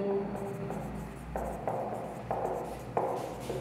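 A pen scratches across paper while an accounting question is worked out by hand, with steady close rubbing strokes broken by a few sharper taps and pauses, over low room noise.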